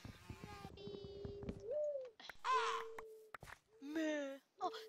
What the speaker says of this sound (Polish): słyszałem ptaka, słyszeliście? Słyszałem ptaka.